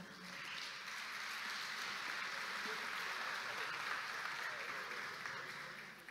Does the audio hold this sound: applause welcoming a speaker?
yes